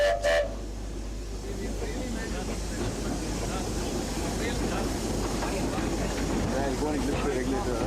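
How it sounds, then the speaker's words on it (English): Inside a locomotive cab while the train runs: a low rumbling drone with rattling and clatter that continues throughout, opened by a short sharp whistle-like tone, with a voice speaking over the noise. "This is inside the locomotive."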